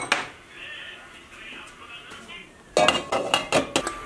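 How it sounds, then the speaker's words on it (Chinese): Lid clattering onto a frying pan holding a flour, water, egg and scallion batter pancake over medium-low heat, a low hiss first, then a burst of sharp metallic clinks and knocks close by. "让它盖上盖子"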